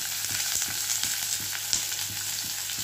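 Onion fries in hot oil with crushed cardamom, cloves and cinnamon, giving a close, continuous sizzle broken by regular scraping stirs, with no one talking.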